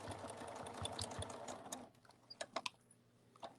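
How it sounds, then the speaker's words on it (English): A sewing machine stitches forward and backstitches across the arms of a fabric cuddle bunny, a rapid close whir that runs steadily, then breaks into short bursts with clicks and pauses. "I'm going to sew and back up and sew and back up because these arms are going to take a lot of stress."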